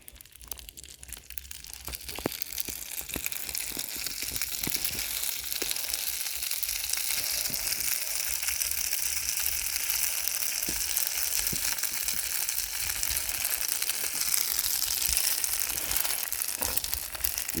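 Leftover macaroni reheating in a frying pan sizzles and crackles steadily and up close, with occasional crisp pops and scrapes, no voices.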